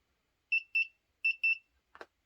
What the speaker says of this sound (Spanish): el pitido por debajo de 200 ohmios